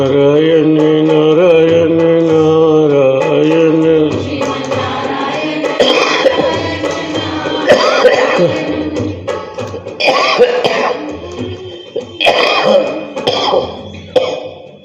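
Repeated coughing and throat clearing at a Vedanta satsang, several harsh bursts following a stretch of sustained tonal chanting, loud and close with uneven gaps between them.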